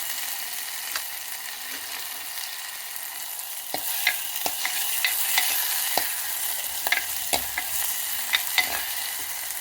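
Ingredients for rasam fry in a clay pot, a soft steady sizzle with sharp scattered clicks and scrapes of a stirring spoon, close and without talk.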